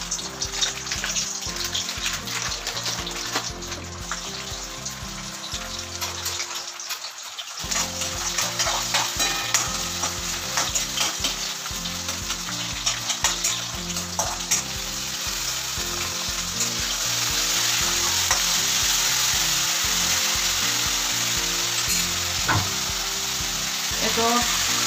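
Cardamom sizzles and spits in hot mustard oil in a wok, a steady frying crackle with bursts of stirring and scraping, close and fairly loud, with a brief quiet gap near the middle and background music underneath.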